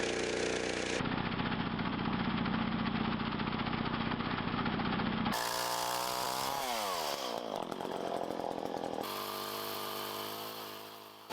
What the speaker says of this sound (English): I normally like to use 2 chainsaws for this. I have my big 18-inch one, gas one that you see here